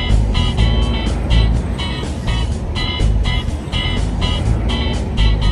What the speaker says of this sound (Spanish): Ven que el tráfico, ahorita a esta hora, a las 5 de la tarde, es súper tedioso